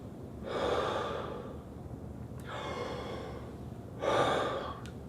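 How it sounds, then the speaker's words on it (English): A calm, relaxed breath drawn in during a breathing exercise, heard as soft airy inhales close to the listener, two broad whooshes separated by quieter breath noise with no talking. "So we have a nice relaxed breath in."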